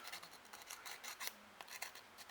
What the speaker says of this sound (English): do a little scrape on the surface and take my shiny top part off